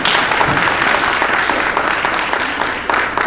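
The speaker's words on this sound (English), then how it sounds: "Let's give a round of applause to our panelists" Audience at a faith panel event applauds its panelists: dense, steady clapping from a full room that holds throughout and tapers slightly near the end.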